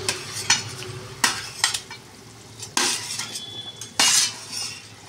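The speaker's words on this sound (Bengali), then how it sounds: "বাটা মাছগুলো একে একে দিয়ে দেবো।" Fried bata fish slide one by one into a boiling curry in a pan, giving soft splashes and a steady sizzle, with several sharp clinks of a utensil against the pan, close and fairly loud.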